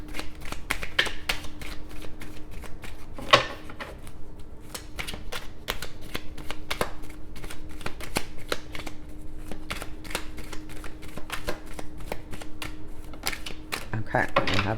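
Tarot cards being shuffled by hand in a steady stream of crisp, close riffling slaps for the whole stretch, with a few sharper flicks, while a faint hum sits underneath.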